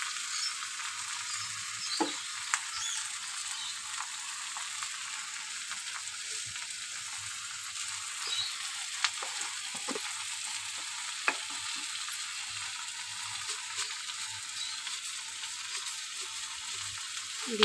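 Cabbage seasoned with garam masala fries in ghee with a continuous, even sizzle, while a spoon clicks and scrapes against the pan now and then.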